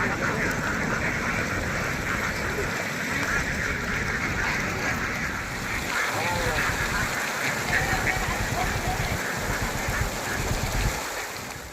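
Many ducklings quacking inside a duckling hatchery's rearing house, a continuous dense chorus of small calls under a constant wash of background noise, with a person talking through it.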